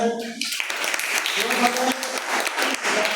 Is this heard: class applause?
yes